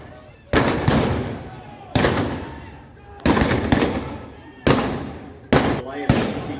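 Blank gunshots crack out in a Jesse James bank robbery reenactment in Northfield, Minnesota, loud sharp reports arriving in irregular pairs and singles across a few seconds, each trailing off in echo.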